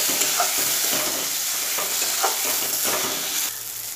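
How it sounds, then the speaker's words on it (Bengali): Three to four spoonfuls of gobindobhog rice fry with spices in a pan, giving a steady, dense sizzle broken by regular stirring scrapes, close and continuous, with no talking. "চালটাকে দিয়ে মশলার সাথে একটু ভাজা ভাজা করে নেব।"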